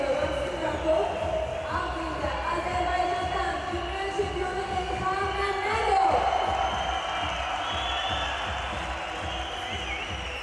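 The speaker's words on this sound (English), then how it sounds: "Crowd on their feet in anticipation of this matchup." A judo arena crowd at a Grand Slam event in Baku roars steadily in anticipation of a top matchup, a broad, sustained cheer with whoops, under a commentator's voice.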